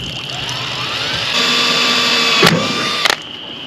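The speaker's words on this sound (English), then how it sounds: "I'm just going to take a small drill bit. I'm going to drill out" A small drill bit bores holes for gauge mounting on a 1991 K5 Blazer, a steady high whine that rises in pitch partway through, broken by two brief sharp bursts.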